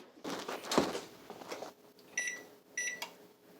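An oven timer sounds two short electronic beeps near the end, faint and set apart, after some kitchen clatter and a thud.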